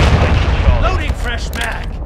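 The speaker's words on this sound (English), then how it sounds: "Hostile cruise missile coming." A heavy, booming blast from an incoming cruise missile in the video game Modern Warfare 2, a loud low rumble rolling on for a couple of seconds while a voice speaks over it.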